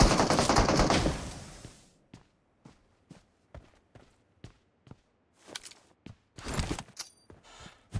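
Gunfire in the mobile battle-royale game PUBG Mobile: a loud burst of noise opens the clip, followed by a string of sharp, evenly spaced single shots. A denser cluster of shots comes near the end.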